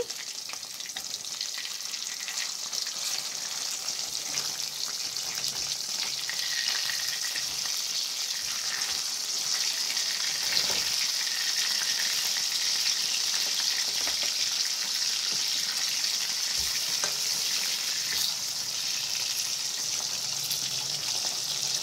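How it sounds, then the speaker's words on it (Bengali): Rohu fish pieces fry in oil in a pan, giving a steady, close, crackling sizzle that holds evenly throughout with no talking. "মাছগুলো আমি হালকা লাল করে ভেজে নেব"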